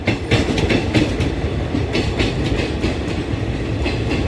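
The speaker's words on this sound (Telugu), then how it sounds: "అడి అమ్మ ప్యాసింజర్ ట్రైన్ ఓవర్టేక్ వేసిందండి మనల్ని" A passenger train overtakes on the parallel track beside a moving superfast express running from Tirupati to Bhubaneswar. A steady loud rumble of wheels and carriages carries rhythmic clickety-clack throughout, heard up close without talk.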